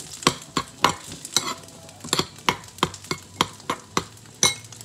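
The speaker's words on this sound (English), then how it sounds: "time to mix that up" Lentils and garbanzo beans are mixed with olive oil, producing a steady run of distinct close scraping and clinking strokes, about two per second, with no talk.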